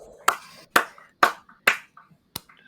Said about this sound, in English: Wow, I got an applause.